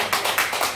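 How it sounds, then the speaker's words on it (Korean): An audience claps in short, brisk bursts during a humanities lecture on poetry, the claps sharp and fairly close in quick succession. "박수는 이때 한번 치주셔야 됩니다."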